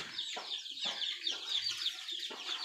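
Chickens cluck on an integrated farm where young birds are kept indoors before going out to graze, giving a steady chorus of short, repeated calls at moderate loudness with no talking.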